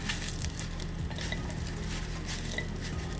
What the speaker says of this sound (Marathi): तर हे तेजपत्ता भाजून घ्यायचा आपल्याला